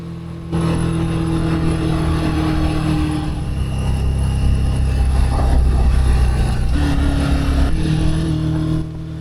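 A Suzuki Katana motorcycle engine drones steadily while being ridden, a loud sustained hum that swells slightly mid-ride and holds until it drops away at the end.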